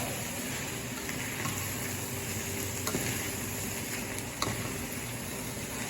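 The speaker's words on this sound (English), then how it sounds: "it won't take these mushrooms very long to cook" Mushrooms cook in homemade spaghetti sauce with a dense, even sizzle and bubbling, and a few soft clicks and scrapes from stirring, close and steady with no voices.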